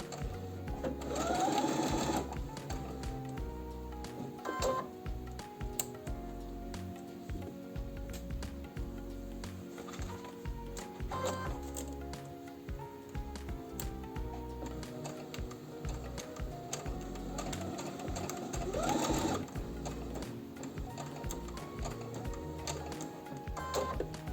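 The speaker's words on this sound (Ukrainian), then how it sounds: "І починаю строчку, роблю закріпку." A sewing machine runs steady, rapid stitching while sewing piping into the cuff of a pajama shirt, a close, continuous mechanical whir with brief slowdowns and restarts, and no talk.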